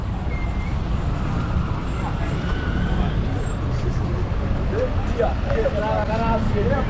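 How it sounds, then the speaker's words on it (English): Busy bus station in Kikuyu town, Kenya, with a steady wash of idling and passing buses and vehicles, crowd murmur and people talking throughout, plus occasional brief squeals and chirps. "Now I've entered into the bus station."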